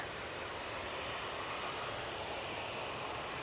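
An Emirates airliner's engines produce a steady, faint, even roar with no breaks or changes.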